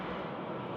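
A Virgin Australia Boeing 737-800 on the runway at Sydney Airport at night gives a steady, broad jet engine roar, heard from a distance without pause.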